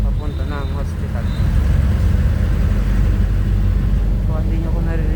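Jeep ride in La Trinidad, a steady low engine rumble and road noise filling the cabin, loud and continuous, with a voice talking over it.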